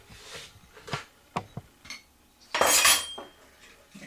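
A spoon mixes soy sauce and brown sugar into a thick, creamy peanut sauce in a bowl, making a few soft clinks and taps followed by a brief, louder scraping swirl. There is no speech.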